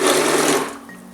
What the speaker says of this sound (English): Right down the stick blender